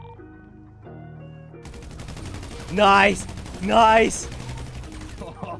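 Gunfire in a GTA roleplay game, a few sharp shots amid a dense crackling burst, with two loud tonal swells close by and a short exclamation from a player.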